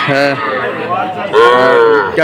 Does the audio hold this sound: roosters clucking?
no